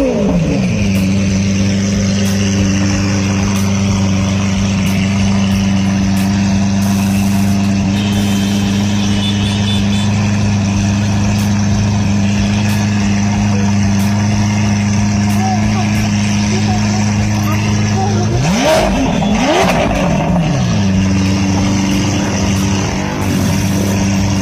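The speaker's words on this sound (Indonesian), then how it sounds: "pengemudi Lamborghini langsung menggeber mobilnya hingga mengeluarkan suara yang nyaring" A Lamborghini engine holds a loud, steady idle drone on a street, then is revved hard in a rising sweep that falls back to idle, with background chatter and traffic.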